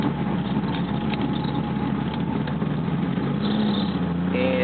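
A 1967 Saab with a two-stroke engine runs in a steady, buzzy drone close by, holding near idle before the pitch climbs slightly toward the end as it revs a little.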